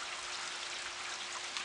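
Rain falls outdoors in a steady, even hiss that is fairly faint and continuous, with no voices or other sounds over it.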